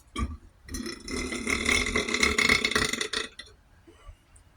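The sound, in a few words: burp during mukbang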